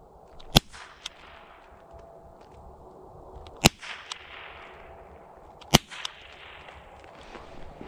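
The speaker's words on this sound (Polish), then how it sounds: "Tak słychać samego naboju hukowego." Blank cartridges fired from a Lexon pistol outdoors, three sharp, sudden bangs spaced a few seconds apart, each followed by faint echoes and quieter clicks in between.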